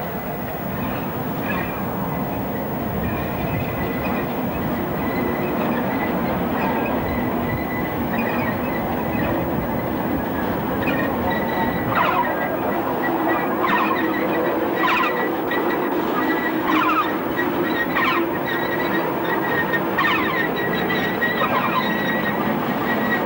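A DA class diesel locomotive hauls a train near Kawakawa and Opua, New Zealand, in 1985. A steady rumble of rolling wheels runs throughout, with recurring high wheel squeals and metallic clicks, and no voices.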